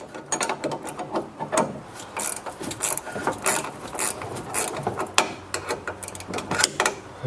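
Ratchet wrench loosening the nut on a front control arm of a Chrysler 300, a dense run of quick clicking strokes with scraping metal handling throughout, fairly close and steady.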